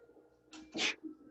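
A single sharp sneeze, close and fairly loud, with a quick breathy intake just before it.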